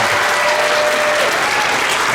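Dense applause from a school concert audience at a middle school band performance, a steady loud wash of clapping hands filling the hall with no break.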